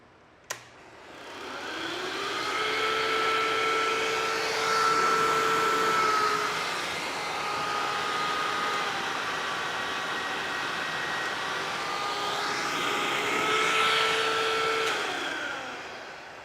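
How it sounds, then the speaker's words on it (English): A vacuum cleaner powered by a home solar battery backup system starts with a click and runs steadily, a loud whining drone with shifting pitch that holds for the whole stretch. "you saw that it was able to turn on the vacuum cleaner"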